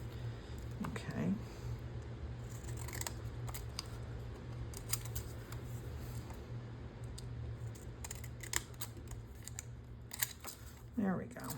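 Scissors snip along the edges of paper to give a postage-stamp border, a series of close, crisp cuts in short bursts beneath quiet, whispery talk.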